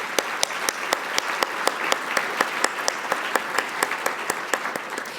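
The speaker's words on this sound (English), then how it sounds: "So I just want to give them a round of applause." Steady applause from an audience at a chamber of commerce annual meeting, many hands clapping evenly throughout at moderate loudness, with no talk over it.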